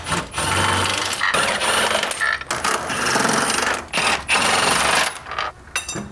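An impact wrench or ratchet works the corner subframe bolts loose on a BMW E93 328i during an oil pan gasket job, giving loud bursts of rattling, buzzing tool noise broken by short pauses.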